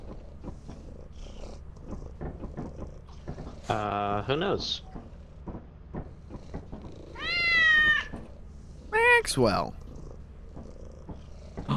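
A cat in the video game Lethal Company lets out several drawn-out, tonal meows over a low continuous purr, while people chat close by between and over the cries.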